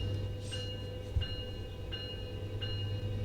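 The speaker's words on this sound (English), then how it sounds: "Let the holiday train begin at 11:11 in the morning." In Train Sim World, a Metrolink Christmas holiday train at San Bernardino idles with a steady low diesel hum while four short, evenly spaced bell-like chimes ring out over it.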